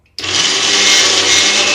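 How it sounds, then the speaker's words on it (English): A blender starts abruptly and runs at a loud, steady whir as it purees coconut, almonds, sesame paste, spices and raw brown sugar into a smooth mix. "now we again turn the blender on, and now we'll try to make them as smooth as possible"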